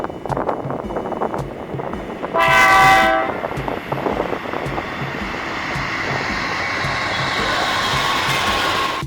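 A manifest freight train led by an H3-9 locomotive rumbles past steadily in central Kansas, its horn blaring loudly for a couple of seconds early on, then the clatter of rolling cars continues.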